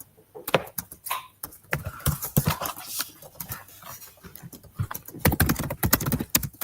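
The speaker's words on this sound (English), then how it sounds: "I noticed a lot of you obviously are typing these out." Students revising for GCSE drama in a classroom typing on computer keyboards, a dense, uneven clatter of close key taps in bursts with short pauses, with no talking.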